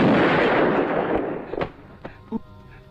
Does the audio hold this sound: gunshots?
yes